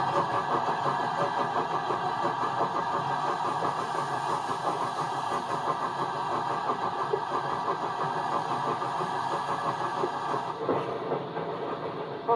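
The Flying Scotsman steam locomotive running: a steady, continuous mechanical rumble and hum with faint rhythmic clatter, heard from on board and sustained throughout.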